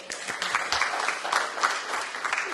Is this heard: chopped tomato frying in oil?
no